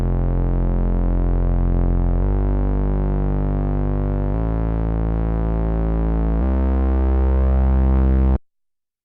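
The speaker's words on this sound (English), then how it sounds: "the sound you're hearing there is the sound of a synthesizer being plugged into my audio interface" A synthesizer plugged into an audio interface plays sustained buzzy, harmonic-rich tones that step through four held pitches in a row, loud and steady, then stop abruptly, with no voices.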